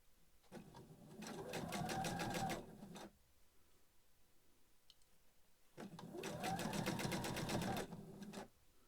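A sewing machine stitches in two sustained bursts with a short quiet gap between them, the whirring tone shifting as it runs over the seam and the handle of a fabric storage caddy, with no voices.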